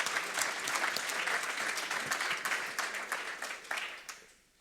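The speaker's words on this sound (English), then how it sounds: "And I think that Cristina herself deserves applause." Audience applause at a talk on European regulation, a dense steady wash of many hands clapping that fades out at the end, with no speech over it.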